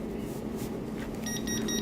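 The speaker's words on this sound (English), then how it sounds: "you can hear the beep that the sublimation is ready now" A mini 3D sublimation machine signals it is ready with a short series of faint, high electronic beeps near the end, over a low steady background hum.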